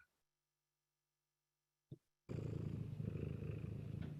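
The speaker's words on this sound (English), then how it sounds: "Animals, purring kitty cat." After near silence and a brief click, a cat starts purring close up, a steady, soft rumbling that continues to the end.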